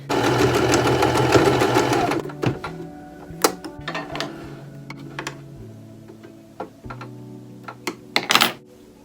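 A sewing machine stitches fabric for a bucket hat in a steady loud whir for about two seconds, then stops, leaving scattered clicks, fabric handling and small taps nearby.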